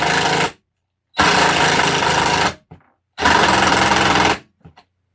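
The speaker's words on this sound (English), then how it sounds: "That impact drill is designed to make that sound." A Craftsman V20 cordless impact driver whirs and hammers in loud, sustained bursts: a short one, then two longer runs of about a second and a half each, with brief clicks between.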